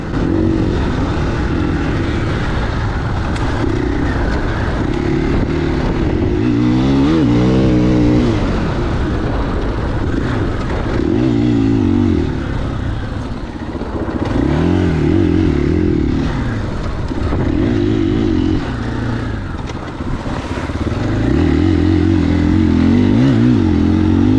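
A 2021 KTM 500 EXCF dirt bike is ridden laps, its engine droning loudly and continuously up close with repeated rising and falling revs as it accelerates and eases off.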